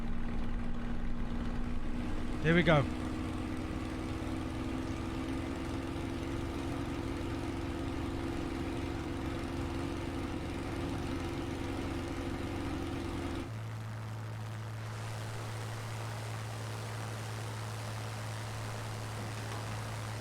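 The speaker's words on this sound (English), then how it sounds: "Listen to these engines when I'm only quarter thrust right now." Engines run at quarter thrust as a steady low drone with a hum, heard close. A brief voice breaks in early and the tone drops lower partway through.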